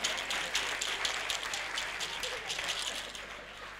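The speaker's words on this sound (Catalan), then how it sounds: "Un aplaudiment, home!" Audience applause at a Catalan storytelling performance, a soft patter of clapping from a small crowd, moderately quiet and fading slightly over a few seconds.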